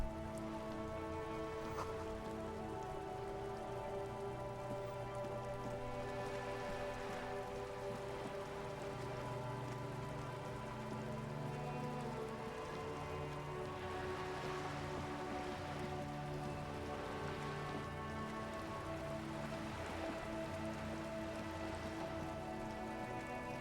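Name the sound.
rain falling on the city in the video game Disco Elysium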